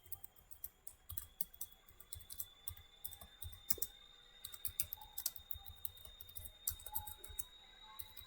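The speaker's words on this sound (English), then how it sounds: "I'll just type a simple program which performs" Typing on a computer keyboard while writing a simple division program, with steady quiet clicking keystrokes in irregular bursts that come close and clear with no talk.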